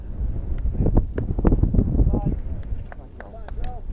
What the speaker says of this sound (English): It's a nasty wind.